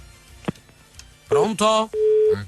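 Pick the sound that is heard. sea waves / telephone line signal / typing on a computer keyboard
telephone line signal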